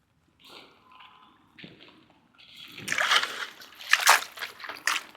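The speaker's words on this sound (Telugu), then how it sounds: "పసుపు మొక్క కడిగితే ఇవన్నీ వేరు పడిపోతాయి కడిగి చూపిస్తాను మీకు" Freshly dug turmeric plant roots from a terrace garden are sloshed and rinsed in water, with soft wet splashes building into louder, close splattering bursts toward the end.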